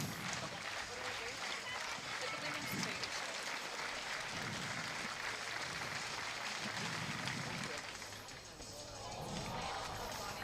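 A stadium crowd at an athletics meet claps along as a long jumper prepares on the runway, a distant broad wash of clapping and crowd noise with a commentator talking over it.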